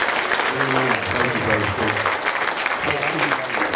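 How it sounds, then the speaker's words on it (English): A church audience gives a sustained round of hand clapping in praise, dense and fairly loud, with some voices and murmuring mixed in beneath the clapping throughout. "Now let's give the Lord another hand clap of praise"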